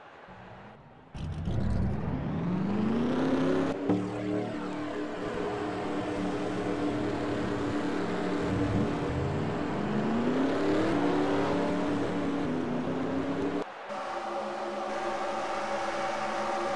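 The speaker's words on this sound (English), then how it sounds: "Drivers, start your engines!" A big race truck engine at Pocono fires up and roars, its pitch climbing and falling through several rev cycles before briefly cutting out and rumbling on, loud and close.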